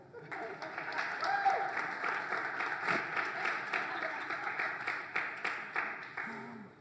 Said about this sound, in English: Please give Andy a round of applause